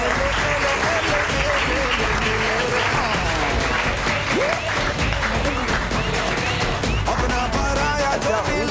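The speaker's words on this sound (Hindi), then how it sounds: "प्लीज उनके लिए बहुत सारी तालियां बजाइए" A studio audience on a morning television show breaks into loud, sustained applause, with many hands clapping at once and voices and cheering mixed into the steady crowd noise.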